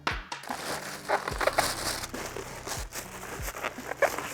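Stiff packing foam is pulled and rubbed out of an iBUYPOWER Intel 13th Gen Arc gaming PC box, giving squeaky creaks and scuffing crinkles in irregular bursts, close and fairly loud.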